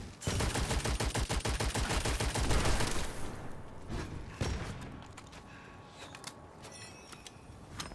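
Rapid automatic gunfire from the dark fantasy shooter Witchfire: a fast, evenly spaced string of loud close shots for about three seconds, then a heavy thud and scattered fainter impacts.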